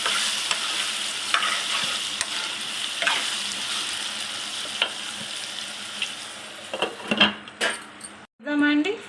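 Eggplant and potato with curry leaves fry in a pan, a steady sizzle running throughout with scraping stir strokes and clinks toward the end; no one speaks.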